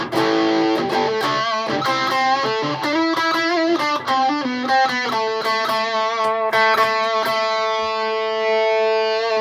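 An electric guitar runs through an Orange Burst effects pedal on a pedalboard, giving a sustained, driven tone with clear ringing notes and chords played steadily and loudly, no talking.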